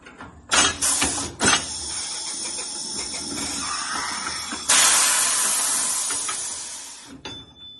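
Liquid Wrench lubricant sprays onto a tire bead for a '66 Plymouth gasser wheel: short sharp aerosol bursts, then a long steady close hiss, with faint clicks and handling noises.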